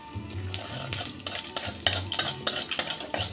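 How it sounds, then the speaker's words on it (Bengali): Whole spices (cinnamon, cloves, cardamom, cumin seeds and two bay leaves) frying in oil with a pinch of salt, sizzling under repeated scraping strokes of a spoon against the pan in an uneven rhythm, close and clear, no speech. "ফোড়নটা খুব ভালো ভাজা হয়ে গেছে।"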